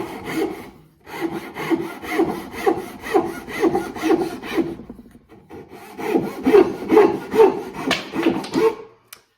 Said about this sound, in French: Je recommence avec ma scie à refendre pour faire un tronçonnage.